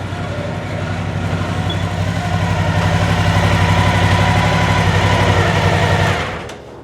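Motorcycle engine idling close and loud, a steady rumbling chug that slowly builds, then cuts off abruptly near the end, leaving quiet.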